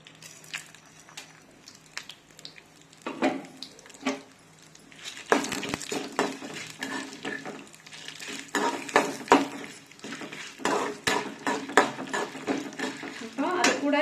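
Chana dal, urad dal and dried red chillies sauté in a little oil in a kadai, with soft sizzling under frequent scraping and stirring clatter from a spoon against the metal pan, busier in the second half.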